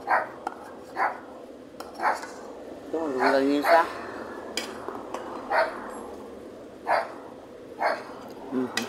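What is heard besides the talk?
dog barking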